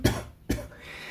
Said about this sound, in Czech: Pardon, já se omluvám, možná budu kašlat,